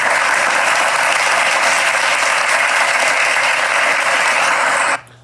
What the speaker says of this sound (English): thank you guys for the round of applause for you guys.